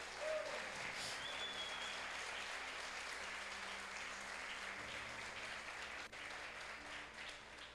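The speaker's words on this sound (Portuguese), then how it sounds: "Você pode aplaudir Jesus por isso?" Church congregation applauding during a worship service, steady sustained clapping from a large crowd filling the room at moderate level throughout, without pause.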